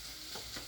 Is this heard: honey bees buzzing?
no